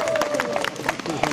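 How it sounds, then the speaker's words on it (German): A crowd of partygoers at a Friedensfusion gathering breaks into brief, loud applause and cheering, with voices shouting over the clapping. "wer macht jetzt einen fetten Applaus für mich und meinen Kameraden Marcel?"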